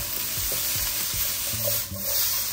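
Garlic and ginger stir-fry in a hot pan for sweet and sour chicken, a close, steady sizzle broken by several quick scraping stirs of the spatula.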